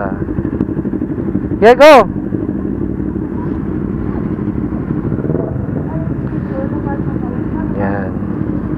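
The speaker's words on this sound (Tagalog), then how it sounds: "kasama tayo naka Kawasaki Z6R, dalawa, isang Kawasaki N650 ba 'yon?" Kawasaki Z6R and N650 motorcycles ride together on a rainy outing, engines droning steadily up close with a brief sharp rev-like whine near the start, while a voice speaks briefly over the engine noise.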